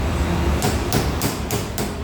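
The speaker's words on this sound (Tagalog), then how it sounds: "Tapos martilyo nyo lang." A hammer strikes a nut while a Mitsubishi Montero Sport starter is being fixed, giving five evenly spaced sharp metallic knocks close by over steady background noise.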